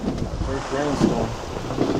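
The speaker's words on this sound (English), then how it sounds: "First rainstorm." Rainstorm at sea aboard a sailing boat on an Atlantic crossing: steady rain and wind noise with low rumbling gusts, a voice briefly talking over it.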